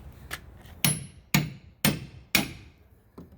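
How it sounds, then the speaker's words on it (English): A hammer strikes a steel pry bar wedged under a tight-fitting piece of wood, four sharp metallic blows in a steady rhythm plus a lighter tap, close and loud with faint knocks before them. "hit it with the hammer and then pry it up like that."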